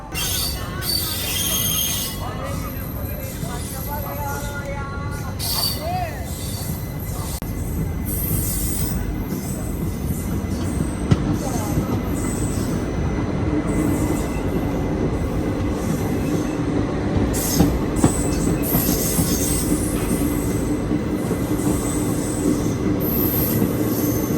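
The Bilaspur–Tirupati train rumbles past close by on an adjacent track for a long stretch, wheels clattering and squealing on the rails in a steady, loud roar.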